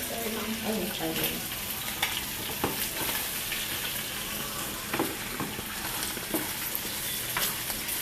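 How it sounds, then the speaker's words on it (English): Meat and chopped vegetables sizzle steadily in a frying pan while being stirred for a Mexican breakfast dish, with scraping utensil strokes over continuous close frying noise. "she's going to give it a good stir."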